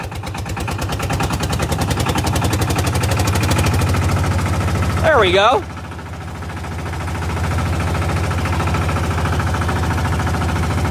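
A Lanz D1266 tractor's single-cylinder engine running in third gear, a loud steady low chugging pulse that continues throughout, with a brief sharp metallic squeal near the middle and a short spoken remark.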